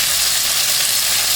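Onion and tomato fry in a hot pan with a loud, continuous, close sizzle and no voices.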